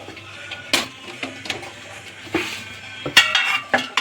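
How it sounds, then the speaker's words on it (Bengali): A metal wok clanks down onto the stove, with several sharp knocks and clinks of cookware scattered over a few seconds, close by. "কড়াইটা বসিয়ে গ্যাসটা অন করে দিলাম।"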